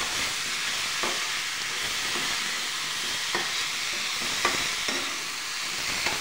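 Potato and fenugreek bhaji stir-fries in a pan with a steady broadband sizzle, broken by a few soft scrapes of the spatula, close and even, with no one talking.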